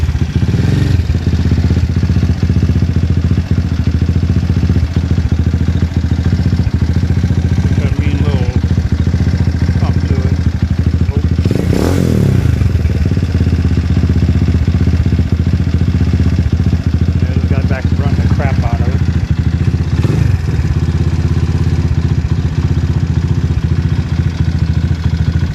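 A Venom X22R 250 motorcycle engine runs close and loud throughout, a steady idle with a couple of brief revs, and someone talks at moments over it.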